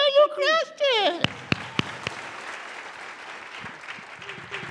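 A live show audience begins clapping after a host's voice, with a few sharp individual claps building into a spread of applause that stays moderate; speech is heard at the start.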